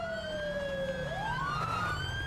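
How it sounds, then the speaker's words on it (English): Police sirens in a cop video game wail steadily and loudly throughout, one tone sliding down then sweeping back up, with a low engine rumble underneath and no talking. "I hear hella sirens"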